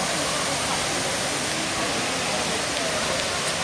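Powerful rushing water pours steadily at Daranak Falls, a broad, continuous roar of falling water close by with no pauses, filling the whole scene.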